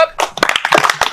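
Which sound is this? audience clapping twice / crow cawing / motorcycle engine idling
audience clapping twice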